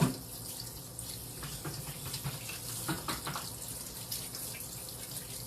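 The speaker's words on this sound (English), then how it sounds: "let me wash this mess off my hands" Hands being washed under a running kitchen tap after making scones, a steady close rush of water with faint splashing and rubbing.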